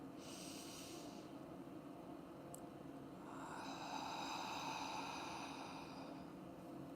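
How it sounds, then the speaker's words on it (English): A slow, audible breathing exhale during a guided meditation, a soft airy rush that swells midway and lingers for a few seconds over steady low background hiss, close and fairly quiet, with no talking. "See if you can start to hear the auditory exhale"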